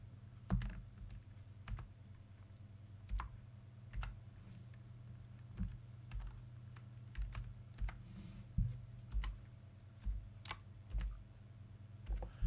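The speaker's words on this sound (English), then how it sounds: "Going to put my password in." A password goes in on a computer keyboard: quiet, close key taps come in sparse, uneven clicks over a faint steady hum, with no voices.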